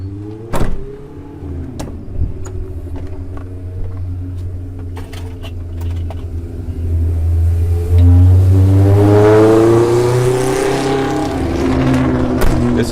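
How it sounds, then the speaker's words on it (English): Loud cars and motorbikes on a Miami street, with engines revving and rising in pitch, one vehicle building to a strong drawn-out rev that passes close by, plus a few sharp knocks early on. "This is what it's like in Miami. Loud cars, loud bikes."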